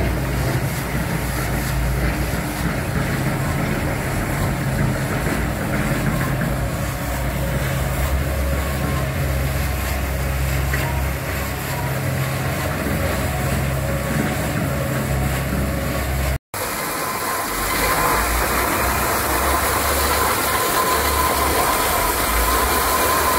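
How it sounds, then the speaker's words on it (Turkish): A chain cutting machine saws through a giant stone block in a quarry, a loud continuous grinding and rattling mechanical drone with a dense metallic clatter that holds steady for over twenty seconds with one brief cut. "Koskoca bloğu kesiyor şu anda. Zincirle kesiyor yani."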